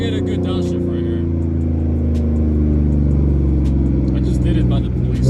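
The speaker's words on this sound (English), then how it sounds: "I'm gonna try to get a good downshift right here." Loud aftermarket exhaust on a V6 Ford Mustang, heard from inside as the driver downshifts: a steady, heavy low rumble that swells into a revving roar, with a voice talking over it.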